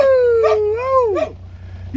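A dog howls in a long, wavering tone that rises and falls, close and loud, followed by shorter yelping howls, with a steady low hum underneath.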